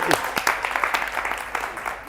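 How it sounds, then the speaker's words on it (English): An audience at a realtor safety training session claps for a participant, a fairly faint, steady patter of many hands under some nearby voices. "Give Jamie a big round of applause."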